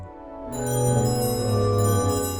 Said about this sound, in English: You can clearly see how the Zimbelstern mechanism works here. A paddle wheel that connects to the star and the bells